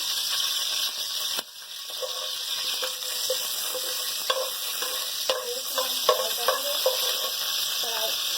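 Curry leaves fry in hot oil for kadhai bhindi, giving a continuous bright sizzle with scattered small pops and spatters and a brief dip near the start, close by and steady.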